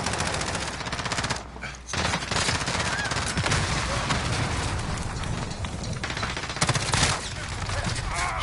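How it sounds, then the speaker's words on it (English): Shotgun blasts and surrounding gunfire in Modern Warfare, a dense, loud barrage of repeated shots with brief gaps, close and continuous through the stretch. "Shotgun there"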